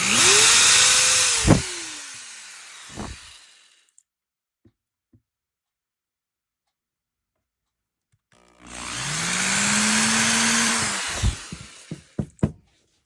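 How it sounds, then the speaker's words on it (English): A power drill bores holes into a door, two sustained whirring bursts with rising pitch, separated by a long silence, each ending in short clicks and knocks. "All right, so I am going to drill my holes."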